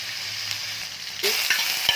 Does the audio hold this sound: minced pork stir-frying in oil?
yes